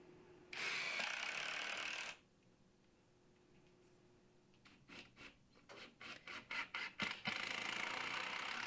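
A power drill drives screws into the wooden side plates of a 2x4 build, a long buzzing run followed by a series of short rhythmic bursts and a final sustained whir, close and fairly faint.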